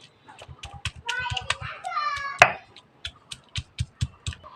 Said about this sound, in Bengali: মাংসের সাইজগুলো খুব বড় বড় আছে তাই একটু আমি শিলনাড়ায় ছেঁচে নিচ্ছি